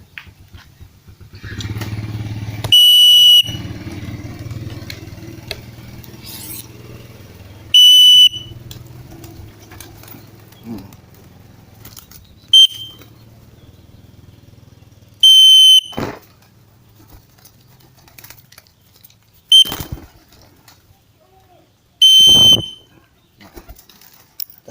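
A whistle blown as a signal to call animals to come, several sharp, loud piercing blasts spaced a few seconds apart over a quiet low rumble.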